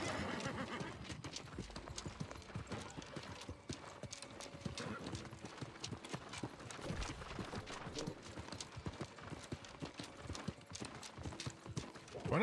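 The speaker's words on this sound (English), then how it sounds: "Hey, I have a horse." A mount in the New World video game gallops steadily, its rapid hoofbeats drumming continuously and loudly for the whole stretch, with an occasional neigh and no talking.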